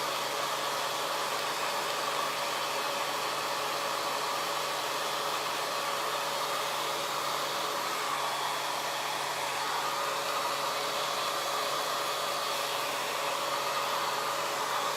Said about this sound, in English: notice the blow dryer is not touching my hair